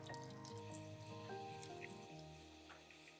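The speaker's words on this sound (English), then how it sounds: "now we're just going to pour this over our egg mixture" Gravy mix stirred into two cups of water pours over an egg mixture with faint, steady trickling and dripping, quiet and close, no voices.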